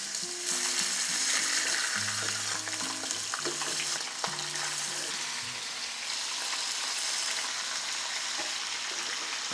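Loud, steady sizzling and crackling of chicken thighs and legs frying in hot oil, with occasional clinks of utensils, continuous throughout.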